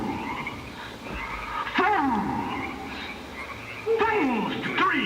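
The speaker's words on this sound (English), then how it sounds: "all the little frogs are so weird" Several small frogs croaking in a group, with repeated rasping calls that rise and fall in bursts over a steady background chorus, fairly close and heard alone.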